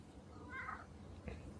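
A pet cat named Richard gives a brief, soft chirp, a single short trill heard faintly at close range in a quiet room.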